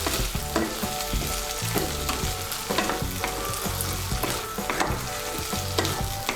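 Cauliflower florets cut into small pieces fry and get stirred in a pan, giving a steady close sizzle with scraping stir strokes throughout and no talking.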